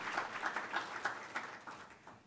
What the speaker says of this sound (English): let's give him a round of applause so loud that you can hear it from here to Sacramento